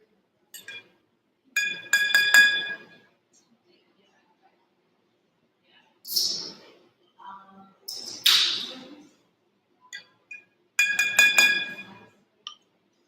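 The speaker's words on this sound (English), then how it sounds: "I'm going to take 1 spoon and I'm going to dip it in and I'm going to stir 3 times." A spoon clinks against a glass as it stirs coffee grounds during a live coffee tasting, in several bright, ringing clusters separated by short silences.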